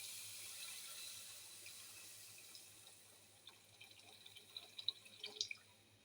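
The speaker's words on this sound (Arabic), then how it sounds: "هنحط المية بتاعته بقى زي ما انتم شايفين كده، انزل بالمية بتاعته." Water is poured into a cooking pot of browned onions for red rice. It makes a faint, soft trickle that grows into clearer splashing and dripping toward the end, with no voices.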